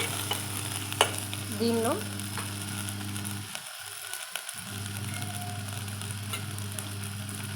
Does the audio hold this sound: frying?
yes